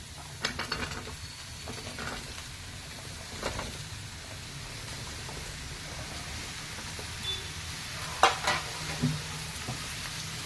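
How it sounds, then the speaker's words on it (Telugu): Chopped ridge gourd pieces tipped into a pan of softened onions and stirred, giving a soft sizzle with scraping and clattering stir strokes, a few sharper knocks standing out, no talking. "ఇప్పుడు ఇందులో కట్ చేసుకున్నాం కదా ఈ బీరకాయ ముక్కలన్నీ వేసేద్దాం"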